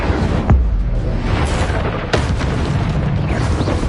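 Incendio fire spell cast in the Hogwarts Legacy video game, a sharp booming burst at the start and another whoosh-boom midway over a dense, continuous roar of game combat noise.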